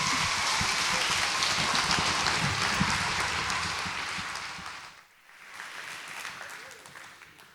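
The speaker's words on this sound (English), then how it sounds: "can we give them one more round of applause just for doing this?" An audience applauds loudly and steadily for several seconds, the clapping thinning out and fading toward the end.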